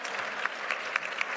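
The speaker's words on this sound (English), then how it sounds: "we have a clap for Candace" An audience at an honoree ceremony applauds Candace Parker with dense, steady clapping and a few sharper claps standing out, heard up close with no talking.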